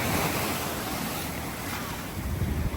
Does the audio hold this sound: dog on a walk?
no